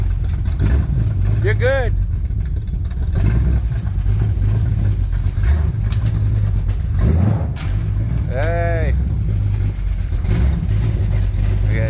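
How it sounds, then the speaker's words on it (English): A truck engine turns over from a cold start after recent repair work and settles into a steady, close idle, with a couple of revs rising above it while people talk and exclaim nearby. "That's the cold start, man. That's the first time it's been cranked up since we worked on it last."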